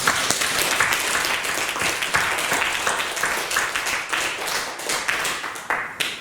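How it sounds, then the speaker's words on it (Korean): A church congregation applauding during a New Year's service, many hands clapping in a continuous, even roar that holds steady and thins slightly toward the end, with no speech on top. "다시 한번 하나님 앞에 영광의 박수를"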